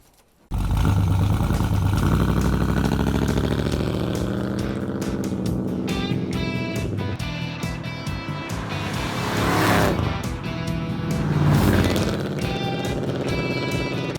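A restored 1975 Pontiac LeMans Sport Coupe engine runs loud and continuously after an abrupt start, its note swelling in revs around the middle and again near the end.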